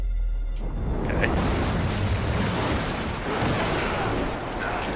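Rushing water in the video game Uncharted 3, a steady broad roar of surging water that fills the whole stretch at constant loudness, with no talk.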